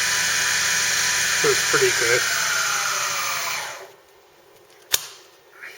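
A motor on a mini mill power feed runs at high speed with a steady whining hum under brief speech, then cuts off, followed by a single sharp click.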